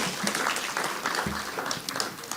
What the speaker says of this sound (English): Let's appreciate him one more time with a beautiful round of applause